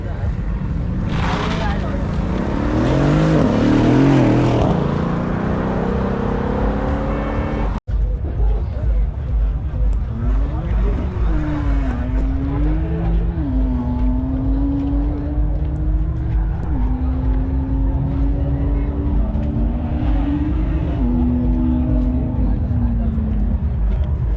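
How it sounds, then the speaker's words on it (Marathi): Supercars run a drag race at Valley Run 2024 in Aamby Valley, their engines whining up and down in rising and falling sweeps. A loud burst comes early, and people talk over much of it. "तर रेस चालू आहेत बघा गाड्या तुम्हाला दाखव"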